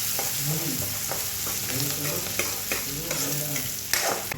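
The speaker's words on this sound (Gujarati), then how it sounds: "હવે પહેલા આપણે ડુંગળીને થોડીક વાર ચડવા દઈશું" Onions frying in a pan with repeated stirring, scraping clinks and a steady sizzle running underneath, close and fairly even throughout.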